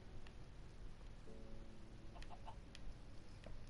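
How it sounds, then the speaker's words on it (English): A Minecraft chicken clucks softly in a few short, scattered bursts over a quiet in-game background, faint and fairly close, with no one talking. "Hello, chicken."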